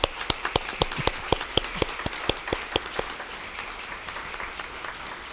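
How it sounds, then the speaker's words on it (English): A small group applauds at a Cupertino City Council oath of office ceremony, individual claps clearly audible in a steady patter that gradually thins out and fades toward the end. "let's give them a big round of applause"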